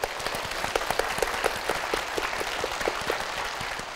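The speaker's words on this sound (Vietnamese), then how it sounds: "Chúng ta cùng dành một tràng vỗ tay cho người quen." Studio audience applause on a Vietnamese game show, Đuổi Hình Bắt Chữ: steady, dense clapping from a crowd that holds evenly for the whole stretch, with no voices over it.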